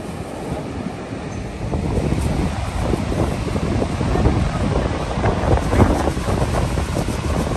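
Niagara Falls roars as a broad, steady wash of falling water, heavy and constant, with wind buffeting the microphone on top.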